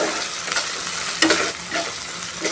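Rohu fish curry with a nut and poppy seed paste frying in a pan: a steady sizzle with repeated scraping strokes of a spatula, including one sharper knock, close and without voices.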